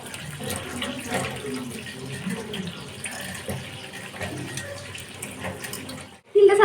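Sesame seeds sit in a strainer under a running tap, with water rushing and splashing steadily and close. The flow cuts off briefly near the end, and a voice briefly murmurs.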